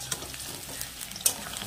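Potatoes fry in a pan with a soft continuous sizzle while a utensil stirs them, scraping and knocking in a few quick, distinct strokes, close and fairly quiet.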